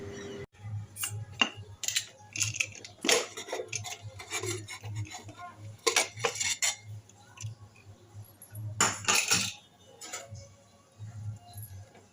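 A pressure cooker lid is shut over chana dal and water, with scattered metallic scrapes, rasps and sharp clicks spread across the clip, fairly close and moderately loud, with no talking.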